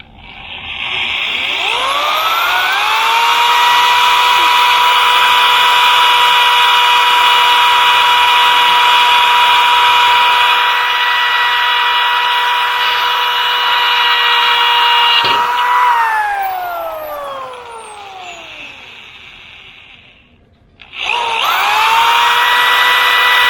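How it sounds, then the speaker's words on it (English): A power drill whines loudly and steadily for long stretches, pitch dropping as it spins down, then starting up again. "I'm going to go ahead and drill 2 more holes"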